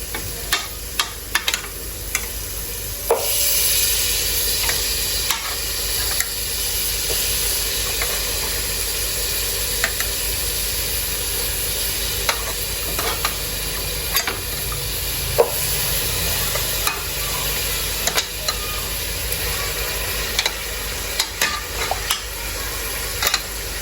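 Beef browning with masala in a pot sizzles loudly and continuously, with a dense hiss and frequent sharp stirring clinks and scrapes throughout, and no voices.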